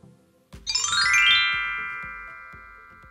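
A notification bell chime rings out loud and bright, a single ding-dong whose shimmering overtones sustain and slowly fade over a couple of seconds, with a soft rhythmic low beat pulsing underneath.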